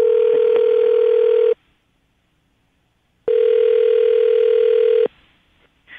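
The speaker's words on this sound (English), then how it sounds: "I'm going to dial the phone number right now" A telephone ringback tone sounds twice, each long steady buzz lasting about a second and a half and separated by silence, loud and close on the line.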